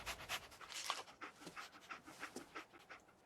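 Dogmeat, the dog companion in the Fallout 4 video game, panting in quick rhythmic breaths, steady and close, with no talk over it.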